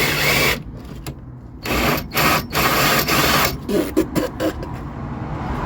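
Seized bolt being worked loose and cracked off on a 1975 Vauxhall Viva, with loud grinding, rattling mechanical bursts broken by short pauses, close up and without talk.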